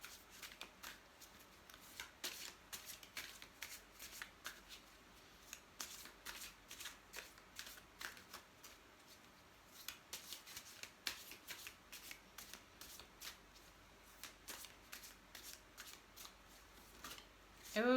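A deck of cards is shuffled over and over in quick, soft riffling bursts, close and quiet, continuing steadily for the whole stretch with a louder bump at the end.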